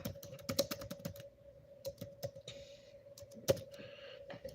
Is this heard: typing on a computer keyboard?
yes